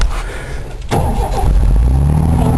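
A Ford Falcon engine catches after a brief crank, jumping to a loud, steady running rumble close by that holds for the rest of the moment.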